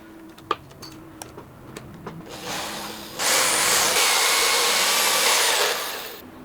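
A bandsaw bites into reclaimed scrap metal, starting with scattered clanks and a rising motor, then settling into a loud, steady grinding whine for a few seconds before easing off.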